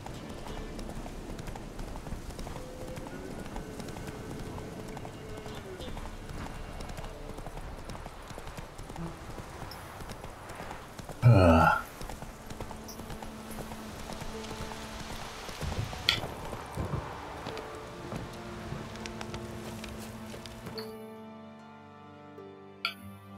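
Horse galloping in The Witcher 3: Wild Hunt, with rhythmic clip-clop hoofbeats running steadily throughout, a sharper burst near the middle, then fading out at the very end.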